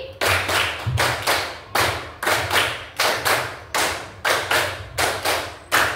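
Schoolchildren clap together in a rhythmic counted routine, loud sharp claps in repeated clusters over several seconds, close and in unison with no talking.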